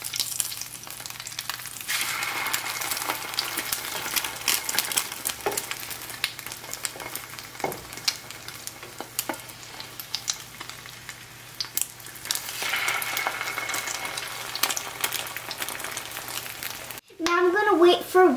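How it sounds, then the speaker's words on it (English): Cheesy egg toast fries in a pan with a steady crackling sizzle that swells and fades as it cooks, followed by a brief clatter near the end. "Now I'm gonna fry it from both sides until it turns golden brown"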